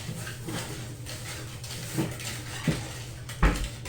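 Cocoa cake batter being stirred in a bowl, soft scraping swishes with several sharper clinks of utensil against the bowl, close and moderately loud.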